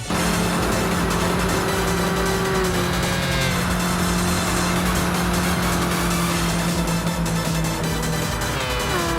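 Volkswagen Scirocco racing in the video game Gran Turismo 6, a steady loud engine drone with shifting pitch and brief tire squeal throughout, no talk.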